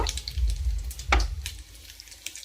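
Vegetables for biryani gravy fry in a pan with a close, crackling sizzle and soft stirring clicks, one sharper pop in the middle.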